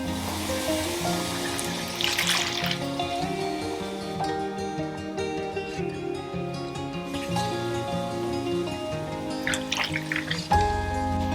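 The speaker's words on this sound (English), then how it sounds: "We're going to start with 2 cups of warm water right from the tap." Warm water runs from a kitchen tap into a bowl, a soft continuous trickle and splash heard under faint music, with no talking.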